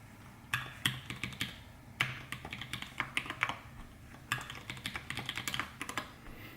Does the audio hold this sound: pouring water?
no